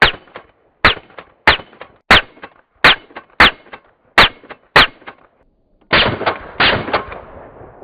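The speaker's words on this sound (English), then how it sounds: "It just sounds like a normal suppressed rifle, but when you slow it down, it just sounds wild." Slowed-down rifle shots through an Anechoic AnechoX 30L titanium suppressor land as about ten sharp, booming reports at uneven intervals, each with a drawn-out ringing tail, ending in a longer, rumbling burst, close and loud with no voices.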